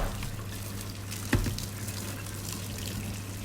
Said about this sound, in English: Put your meat in the sink and pour boiling water over it out of the kettle.